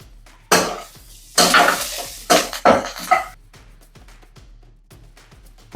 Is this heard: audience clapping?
no